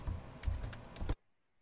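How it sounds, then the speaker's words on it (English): Rapid keystrokes on a computer keyboard clatter in a brisk, uneven burst of clicks for about a second, then stop abruptly into near silence. "you're typing too loud."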